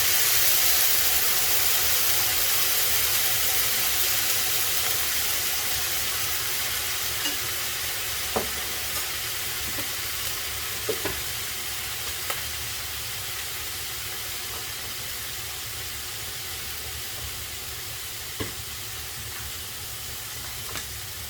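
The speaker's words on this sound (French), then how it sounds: "Ensuite, j'ajoute une louche de jus du bouillon." A ladle of beef broth juice hits a hot pan and keeps up a steady, even sizzle for a long stretch, with a few faint clicks of utensils and no talking.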